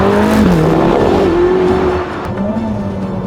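A supercar pushed hard through a track chicane screams at high revs, pitch dipping and climbing as the driver lifts and reapplies throttle, with tyres squealing, loud and close.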